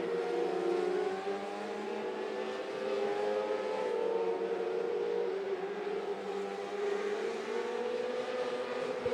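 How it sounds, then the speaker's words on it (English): 600R mini sprint race cars circling a dirt oval during a heat, with engines droning loudly and steadily throughout and pitch rising and falling as the cars pass, with no talk over it. "Next group of cars to hit the track"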